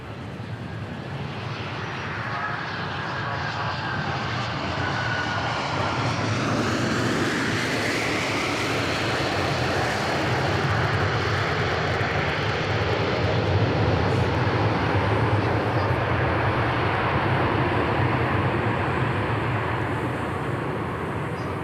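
An airliner from Little Rock lands at Dallas Love Field, a broad jet roar that builds and stays loud and close, with a falling whine early on and a steady rumble beneath.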